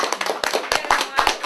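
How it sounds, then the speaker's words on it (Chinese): Scattered, uneven hand clapping from guests at a wedding ceremony, a brief burst of claps with voices mixed in. "好来，个掌声一下"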